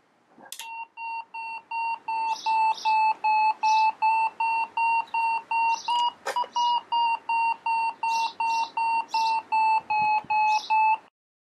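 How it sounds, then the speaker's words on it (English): FrSky variometer sensor emitting a long, fast series of regular electronic beeps at a steady pitch, with one brief click partway through and no talking. "it can present that data by a series of beeps of different tones"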